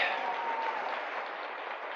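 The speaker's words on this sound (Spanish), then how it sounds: "Y damos un aplauso al Señor de la gloria, Señor Jesús" Steady, dense applause from a church congregation, a continuous wash of many hands clapping at moderate volume for a couple of seconds with no talking.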